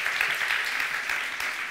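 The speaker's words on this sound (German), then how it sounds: "Einen ganz tollen Applaus für Muriel und für Alex" Audience applause at a live-streamed talk event, steady dense clapping close and loud throughout the short stretch.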